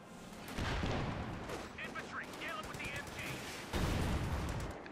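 Rapid gunfire and machine-gun bursts from a Company of Heroes 2 match crackle near and loud over game battle ambience, with a few louder booms and a commentator talking underneath.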